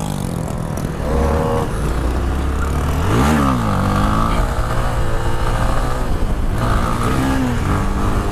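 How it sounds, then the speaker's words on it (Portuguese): A 2018 Honda CB Twister 250 motorcycle revs hard while doing wheelies on a street, the engine note rising and falling in loud, close bursts with one sharp climb midway and no talk over it. "Os grauzinhos murchos aí de CB Twister 250 2018"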